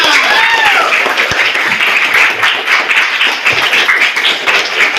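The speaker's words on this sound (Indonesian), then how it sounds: "Oke, tepuk tangan buat kita semua." An eighth-grade class applauds together in a classroom, a loud, close burst of many hands clapping with some scattered taps and faint voices mixed in, continuing at an even level.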